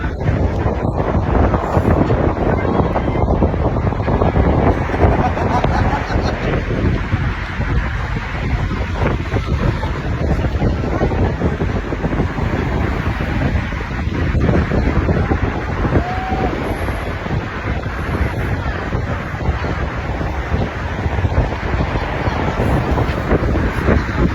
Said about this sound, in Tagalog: Hindi ako makapagsalita kasi yung lakas ng hangin.